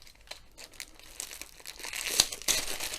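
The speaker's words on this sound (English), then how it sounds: "just slide it out the bag" A plastic packaging bag holding a rolled diamond painting canvas being opened and the canvas slid out, giving close, continuous crinkling and rustling that grows louder toward the end with a couple of sharper crackles.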